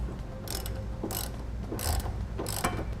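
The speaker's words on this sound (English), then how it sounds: "With our nut installed, we'll go ahead and tighten it down." A ratchet tightens a flange nut onto a trailer hitch bolt on a 2009 Ford Edge, giving four bursts of quick clicking about every second, close and moderately loud over a low background rumble.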